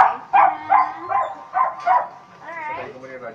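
Two dogs guarding a house bark and yip in short repeated bursts, close by and tangled with a person speaking over them.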